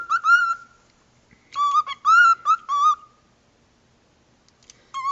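A pet bird in a house gives clear, loud whistled calls, a long note followed after a pause by a burst of several rapid chirping whistles, then another short call near the end.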